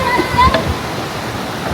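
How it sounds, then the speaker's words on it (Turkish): Small waterfall in Saklıkent canyon, a steady rushing hiss of falling water close by, with a brief splash and a faint voice at the start. "Küçük şelale var."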